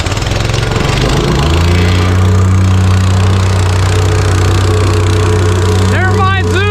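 A plate compactor's engine starts and settles into a loud, steady low drone at a winter sidewalk concrete job, running continuously near the microphone with a brief rising whine near the end.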